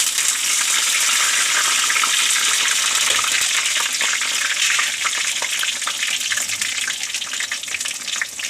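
Curry leaves dropped into hot oil over fried onions in a clay pot for mackerel curry, giving a loud, steady, dense hiss and crackle of sizzling that runs throughout without talk.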